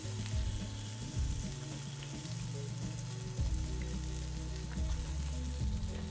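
Butter sizzles in a hot pan alongside seared steak, a soft, continuous frying crackle with low thumps and knocks of the pan being moved around.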